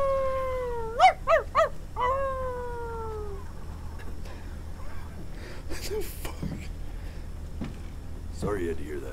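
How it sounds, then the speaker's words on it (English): A cartoon cat character in the video game Before Your Eyes lets out a few quick rising, wailing meow-like barks, followed by quieter scattered game sounds and faint voices. "He's a cat and he's barking."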